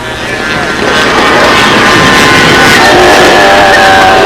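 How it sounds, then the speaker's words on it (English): An RC scale Spitfire model airplane engine runs at a windy national scale competition, a loud continuous buzzing drone that swells and holds steady close to the microphone. "Beautiful Spitfire now fired up."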